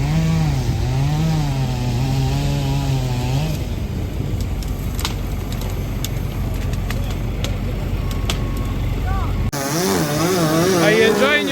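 Timber being processed and split outdoors gives a continuous loud mechanical roar with scraping and knocks, while people talk over it at times.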